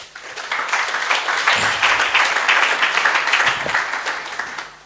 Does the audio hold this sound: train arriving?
no